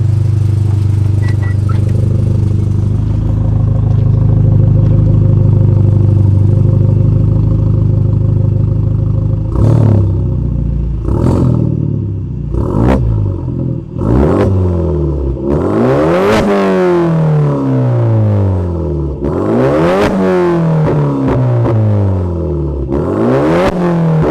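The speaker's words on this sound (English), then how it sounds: "I'm gonna rev it for you guys real quick so you guys can hear how it sounds" A Kia K5 Optima engine idles with a deep exhaust rumble, then is revved hard several times in sharp bursts, each rising and falling back, loud and close.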